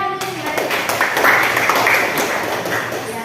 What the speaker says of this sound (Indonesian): Beri tepuk tangan dulu Mbak Resti.